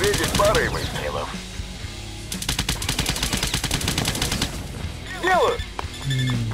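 Rapid gunfire rattles in the Cannon Fodder 3 video game as soldiers shoot at mines, with a dense burst of repeated shots in the middle, surrounded by someone talking.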